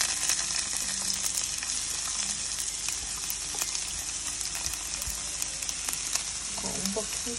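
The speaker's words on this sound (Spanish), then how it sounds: "Echamos la cebolla a sofreír." Onion sautéing in a frying pan, a steady bright sizzle heard up close with occasional light clicks and stirring sounds, no talk over it.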